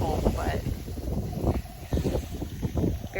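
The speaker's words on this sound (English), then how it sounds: "So you can tell how windy it is out here." Gusty wind rumbling against the microphone outdoors in a garden, rising and falling in bursts, with a person talking over it.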